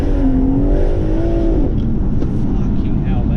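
A downpiped BMW M140i engine revs loudly and close, its note climbing and then settling into a rough, broad roar with a burbling edge.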